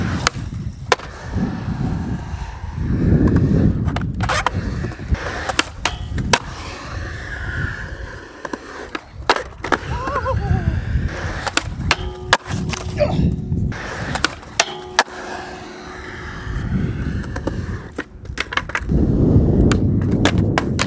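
A skateboard clatters and rolls around an outdoor park, with sharp board-slap impacts from jumping down stairs and grinding a flat bar, the wheels rumbling steadily between the loud pops, close and mostly free of talk.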